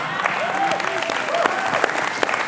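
An audience applauds steadily throughout, a dense wash of clapping with a voice faintly audible underneath.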